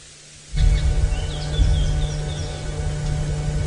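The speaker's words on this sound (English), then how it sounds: "we've got a tawny-flanked prinia calling." Several thin, high chirping calls of a tawny-flanked prinia come and go over a steady low background rumble, fairly distant and soft, during a sunrise safari drive.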